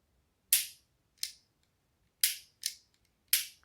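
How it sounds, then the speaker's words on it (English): A Taurus G2C pistol is dry fired, giving five sharp, crisp trigger clicks, near and fairly loud, with uneven gaps between them against near silence. "Let's just dry fire just a little bit, just because this is a gun I'm most likely going to dry fire."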